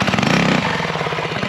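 Small mini-bike engine revving hard through a wheelie, a loud buzzy continuous drone close by that shifts pitch partway through.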